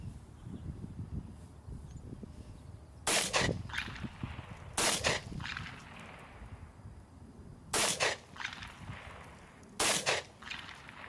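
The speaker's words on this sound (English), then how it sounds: "we'll see if we can shoot some heads off of some zombies. We're going back to the Remington Full Metal Jacket range ammo." Four Remington full metal jacket range rounds fired from a Masterpiece Arms Defender 9mm pistol at zombie targets, each a sharp loud crack spaced a second or more apart, with faint outdoor noise between shots.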